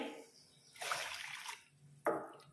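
Water is poured from a glass into a cooking pot for wheat rice in two short splashing pours, quiet and close.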